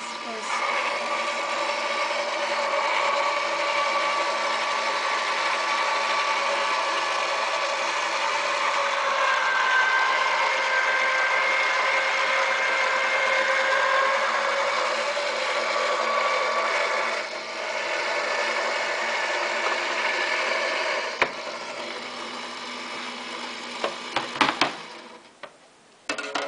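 A Cut 'N Boss die cutting and embossing machine feeding stacked plates through, a steady mechanical whirring hum that runs for about twenty seconds, then a few clicks and knocks as it stops.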